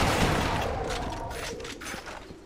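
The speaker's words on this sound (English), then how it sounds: "I keep trying to use the shotgun because I'm a big shotgun fan" A shotgun fires in Resistance: Fall of Man amid a dense, noisy wash of combat. Several blasts and mechanical clatter fade gradually over a couple of seconds, with no talking.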